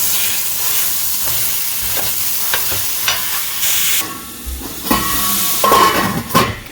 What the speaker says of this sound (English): I actually have just some mild Italian sausage going